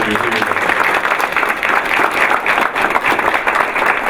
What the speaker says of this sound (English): Give our board members a round of applause.